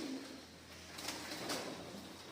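A soft, low coo from a Mardin tumbler pigeon drifts in faintly, a couple of muffled calls over quiet room noise with a light knock or two.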